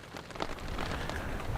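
Steady rain falls at a bushcraft camp in the woods, a dense, even patter with no talking over it.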